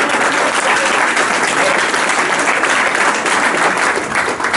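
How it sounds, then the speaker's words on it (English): Loud, dense applause from a large crowd fills the whole stretch, steady and continuous, with no voices rising above it. "Let's give them a great big round of applause."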